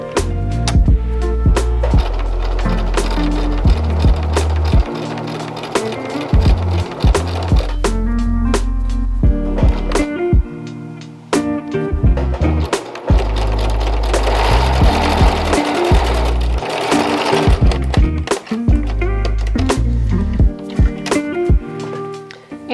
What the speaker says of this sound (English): I'm just stitching the side of the placket here to the shirt